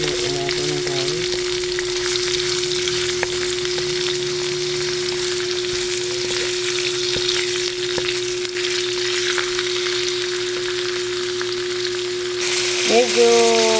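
Spaghetti malabon sauce with pork browning in a hot pan makes a loud, continuous sizzle with occasional stirring clatter, over a constant low electrical hum and with no speech.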